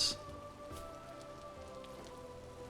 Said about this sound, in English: I don't want to be somewhere where it's raining all the time.